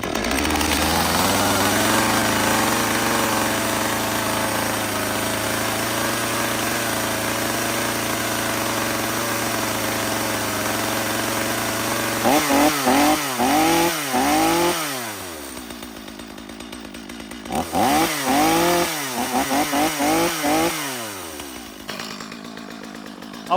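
A repaired STIHL MS250 chainsaw starts and runs steadily at a loud idle close by, then revs hard in two bursts of rising and falling throttle with a pause between them.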